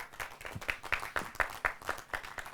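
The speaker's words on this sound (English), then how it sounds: "Let's give them a hand of applause" A small audience claps at a press conference, sparse and uneven, with individual hand claps standing out in a loose rhythm at moderate distance, fairly quiet.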